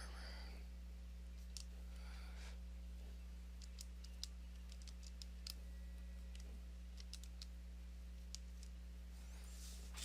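Light, quick clicks of a calculator keypad being pressed in a string of taps, close and fairly quiet over a steady low electrical hum.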